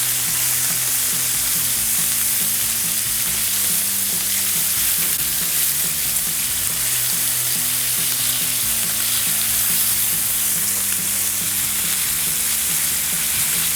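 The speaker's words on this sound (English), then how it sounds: "I'm going to go ahead and get the rest of this bacon on now" Bacon sizzling steadily on a hot Blackstone griddle, a loud, dense, continuous crackle with no pauses and a low hum running underneath.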